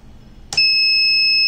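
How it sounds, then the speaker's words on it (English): An RF receiver sounds a one-second electronic beep when a message is entered: a single clear, steady tone that starts suddenly and holds alone. "when I hit enter, it will be appear here with the 1 second of beep."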